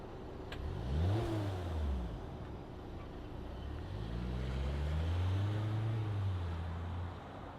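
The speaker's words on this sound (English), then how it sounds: "let's fire it up and see this thing roll on those 17-inch base" A 2025 Volkswagen Tiguan S base trim with an 8-speed automatic starts up, its engine revving twice before settling and then pulling away with a steady, moderately loud drone, heard without talk.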